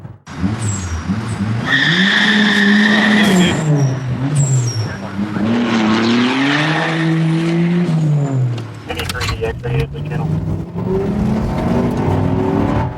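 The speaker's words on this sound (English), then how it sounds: "a vehicle had passed us, made a U-turn in the median, squealing its tires, and blew up some smoke" A car squeals its tires hard while swinging through a U-turn in a highway median, a loud wavering screech with revving engine that rises and falls for several seconds before fading, with a voice talking over part of it.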